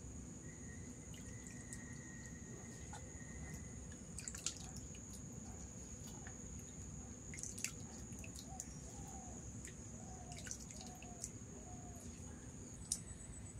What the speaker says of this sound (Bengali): ভাতটাকে জল থেকে নিজড়ে নিয়েছি।